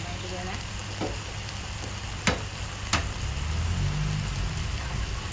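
Eggs hit a hot pan of stir-fried flat rice noodles in soy sauce (pad see ew), giving a steady crackling sizzle with a few sharp taps of a utensil, close and clear.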